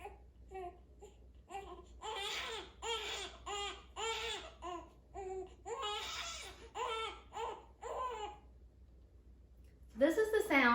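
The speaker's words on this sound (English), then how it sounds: "This is the sound of newborn lungs, which every mother rejoices to hear when her baby is born." A newborn baby cries in repeated wailing bursts with short breaths between, close and fairly loud, rising into a sharper, more strained cry at the end.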